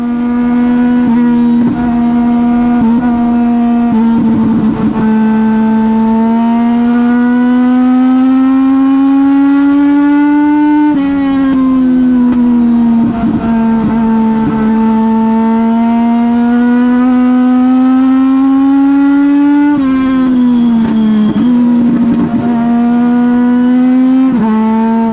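Legend race cars circle a speedway track at Colorado National Speedway, a close, loud engine howl holding steady and dipping in pitch through the turns, while other cars' engines snarl faintly around it.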